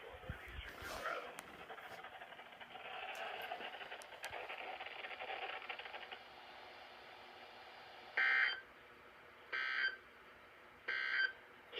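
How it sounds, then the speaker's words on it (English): An Emergency Alert System weather radio warning for north central and northeastern Colorado sounds three loud, evenly spaced tone bursts near the end, following a stretch of broadcast speech. "The warning alarm code will be activated for hazardous launches and warnings for all north central and northeastern Colorado."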